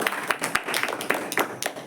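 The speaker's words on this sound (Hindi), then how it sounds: "उनके लिए भी जोरदार तालियां।" An audience at a talk on firecrackers gives hearty applause, a lively patter of many hands clapping with distinct sharp individual claps, close and unaccompanied by speech.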